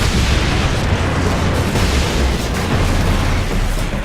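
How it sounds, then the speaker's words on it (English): Dense, continuous barrage of rocket blasts from ork mech rocket launchers on high ground in Warhammer 40,000: Space Marine, a loud, unbroken rumble of overlapping booms with no pauses. "them spamming rockets at us"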